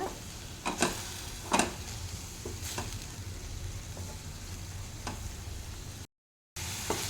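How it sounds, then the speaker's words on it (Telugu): Spinach fries in a pan for a tamarind chutney, a steady close sizzle broken by a few louder stirring scrapes, with a brief silent gap near the end and no talking. "ఇంకొంచెం ఫ్రై అవ్వాలి పాలకూర"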